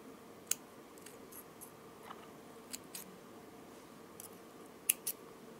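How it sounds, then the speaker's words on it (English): Scissors snip the thread on a handmade bone pendant necklace with lava stones, a few quiet clicks and cuts spaced out over a faint background hiss, with two sharper snips near the end. "Now that I have made a few knots, I will cut the thread."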